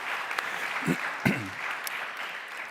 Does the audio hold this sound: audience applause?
yes